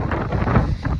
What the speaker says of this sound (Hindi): ओ भाई क्या तेज हवा चल रही है